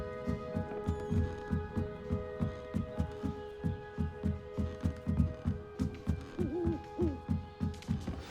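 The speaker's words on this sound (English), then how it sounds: "Don't mind me, owls." Owls in the Hogwarts Legacy owlery hoot in a steady, low rhythm of evenly spaced pulses, repeating about twice a second over a faint ambient hum.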